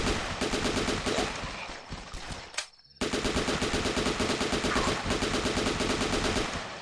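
Loud, continuous automatic machine gun fire in The Last Stand zombie game, in rapid bursts, briefly cutting out near the middle before resuming at full intensity, close and harsh.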